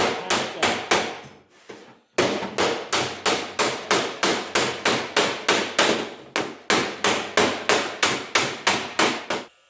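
A hammer strikes the bottom edge of a car door against a dolly to flatten the inner flange and tighten the lip, giving a fast, steady run of loud metallic blows with one brief pause, close and without talk.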